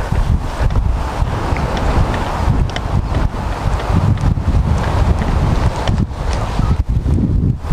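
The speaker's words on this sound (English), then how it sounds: "It's windy today" Strong wind buffets the microphone in a continuous, rough low roar with gusty surges, loud and close throughout.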